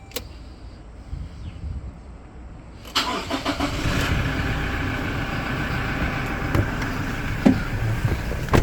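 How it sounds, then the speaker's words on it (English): A 2019 Toyota Hilux SR pickup engine cranks and catches about three seconds in, then settles into a steady, close idle rumble with a few faint clicks. "we'll start him up for you"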